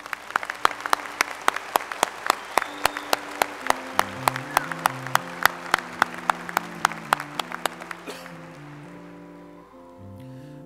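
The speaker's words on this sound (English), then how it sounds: "Have a round of applause for our master's students." A university commencement audience applauds master's students with sharp, spaced claps over processional music. Around the eighth second the clapping stops and the music carries on alone.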